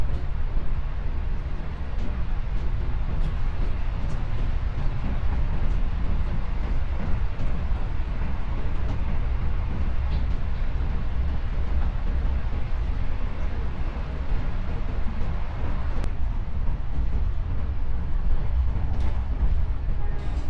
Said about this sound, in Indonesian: Saat ini kereta melintas langsung di Stasiun Ceper